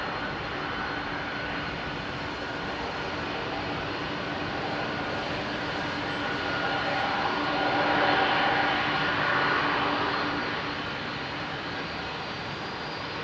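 Airliner jet engines at London Heathrow roar in a continuous, moderately distant drone that gradually swells louder near the end before easing back slightly.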